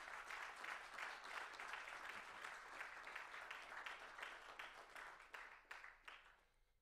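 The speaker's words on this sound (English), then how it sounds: "Let's give the Lord a clap offering again." A church congregation at a wedding service claps together, a fairly faint but dense wash of applause that thins into scattered individual claps near the end.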